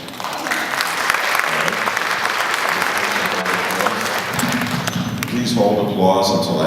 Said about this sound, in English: Please hold applause until at the end